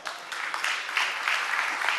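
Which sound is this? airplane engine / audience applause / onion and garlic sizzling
audience applause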